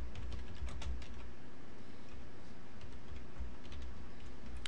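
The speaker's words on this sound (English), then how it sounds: "we're just going to click over here and we're going to type in hello world" Fast, close typing on a computer keyboard produces a run of light, irregular key clicks that is heard alone against a quiet background hum.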